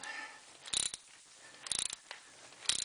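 A two-wire coolant temperature sensor is tightened into the 3.9L engine of a 1993 Dodge Dakota, giving three short bursts of close ratcheting clicks with quiet gaps between.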